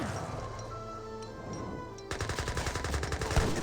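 A Gatling gun fires in the strategy game Age of Empires 3 as a rapid, rattling burst of shots. It starts partway through over a busy battle din of clashing gunfire and comes out loud and continuous.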